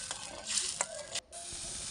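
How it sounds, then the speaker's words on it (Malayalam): A utensil stirs and scrapes through green chilli pickle with salt sizzling in a hot pan on an outdoor stove, with a steady hiss and a brief pause in the middle. "അപ്പോൾ ഇനി ഉപ്പൊക്കെ ഇട്ട് ഞാൻ ഇളക്കി"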